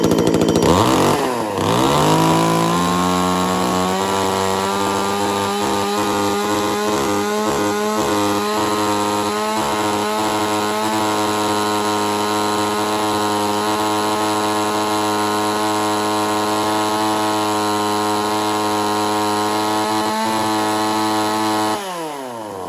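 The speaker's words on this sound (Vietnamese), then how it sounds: "Em nghe tiếng máy và đã đi cưa thử rồi" A Japanese chainsaw engine starts with a rising whine, then runs loud and steady for about twenty seconds before cutting off. No voices.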